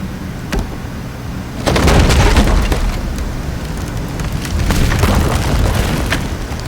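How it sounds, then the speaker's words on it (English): A Dragon Bile Bomb explodes in the Bard's Tale IV video game, giving a heavy booming burst with crackling debris, then a second rumbling swell, over low game ambience with no talking. "Let's use the Dragon Bile Bomb."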